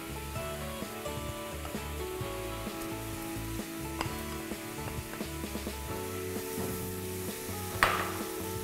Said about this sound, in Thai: พอน้ำเดือดนะคะเราจะใส่หมูสับลงไปค่ะ